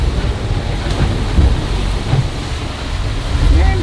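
Waves wash and surge around a sailboat at sea, a rough, continuous rumble mixed with gusty wind noise, with a few louder swells and no clear talking.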